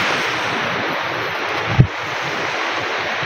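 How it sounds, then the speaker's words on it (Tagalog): Sea waves wash steadily onto a beach near a tent, a broad continuous roar of surf with wind noise buffeting the microphone and one brief thump partway through. "So ito yung dagat."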